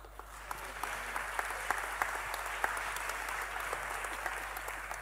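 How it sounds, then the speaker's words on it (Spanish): A theatre audience gives a magician a strong round of applause at an awards gala in Fuerteventura, a dense, even clapping sustained throughout with sharp individual claps standing out. "Te vamos a dar un fuerte aplauso, por favor."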